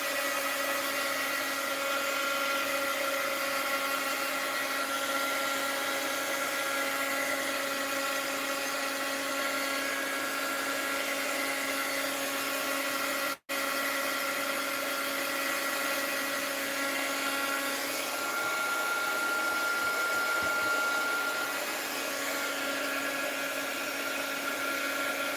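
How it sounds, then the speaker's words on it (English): Heat gun running continuously on a book cover, a steady, loud whirring fan hum with a sharp tonal whine, briefly cut off midway before resuming, with no talk. "I'm going to hit it with the heat gun."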